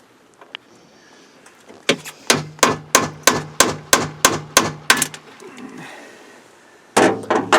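Rivets hammered in a steady run of about a dozen sharp, loud metallic blows at even pace, followed by a pause and a further burst of strikes close by, with no talk.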